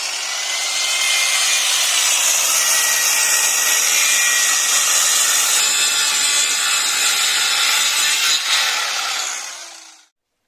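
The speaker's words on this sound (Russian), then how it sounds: "Вдоль пилим циркулярной пилой." Circular saw ripping wooden boards lengthwise for an underfloor heating install, a loud continuous bright cut lasting about ten seconds before cutting off abruptly, with no voices.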